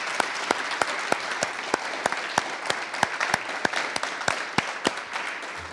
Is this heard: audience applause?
yes